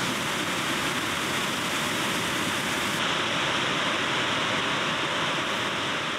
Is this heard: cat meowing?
no